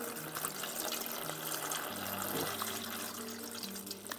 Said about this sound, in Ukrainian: Зараз заливаємо, наголошую, холодною водою.